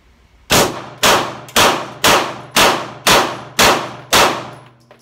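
A Kimber Team Match II 9mm 1911 pistol fires eight loud, sharp shots at a steady rhythm of about one every half second, each crack ringing out and decaying before the next, with no talk.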